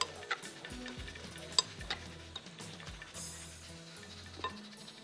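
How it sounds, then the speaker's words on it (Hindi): Fish batter of egg and gram flour is stirred in a bowl, with soft scraping and occasional light clinks of a utensil against the bowl, faint and close. "बहुत अच्छी तरह से मिक्स कर दीजिए ताकि अंडा और सब कुछ इसमें"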